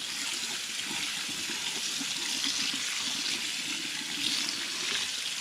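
Hot water runs steadily from a kitchen faucet into a metal pot, a continuous close splashing rush without talk.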